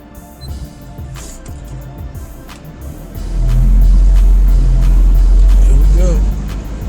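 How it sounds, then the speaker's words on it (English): A 2009 Acura RDX being driven, its low engine and road rumble swelling loudly midway as if under throttle, then easing back, with someone talking throughout. "Just doing a little bit of driving around"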